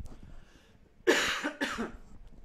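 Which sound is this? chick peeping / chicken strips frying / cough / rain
cough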